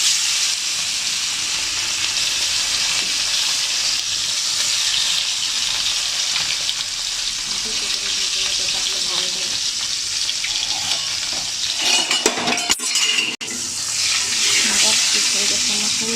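Sarputi fish frying in hot oil, a steady loud sizzle running throughout, with a brief clatter of something being dropped or moved near the end before the frying resumes.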